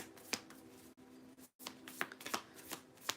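Tarot cards are shuffled close by in quick, crisp riffling bursts separated by short pauses, quiet and without speech.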